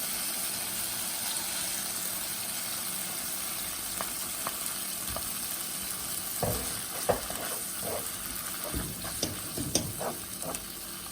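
Mutton brain dropped into sizzling masala and oil, a steady frying hiss throughout with scattered spoon scrapes and clicks growing busier toward the end, no talking.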